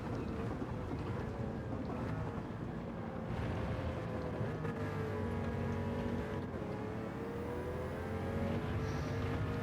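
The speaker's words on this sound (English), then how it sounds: "That engine note is so good." A Pagani Huayra race car in Gran Turismo 7 drones steadily at sustained speed, its engine note holding a smooth, continuous tone with slight pitch drifts and wind rush, no talking.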